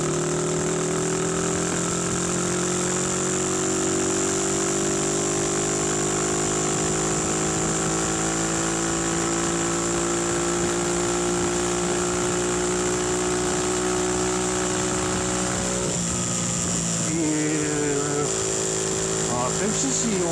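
A Honda 100cc motorcycle engine runs steadily and close up with a smooth, continuous hum that shifts pitch slightly near the end as the small bike is ridden up onto a big road.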